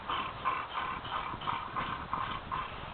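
Horse hooves clip-clop as an improvised sound effect in a Western comedy improv scene, a steady, even trotting rhythm of muffled knocks, fairly quiet and heard alone without talk.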